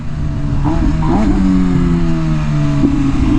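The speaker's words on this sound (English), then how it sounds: "nice downshifts. The auto blipper is a little aggressive, but it's cool." An MV Agusta Rush motorcycle engine drones loudly up close while the auto blipper throws quick rising rev blips on the downshifts, first in a pair early on and then once more near the end.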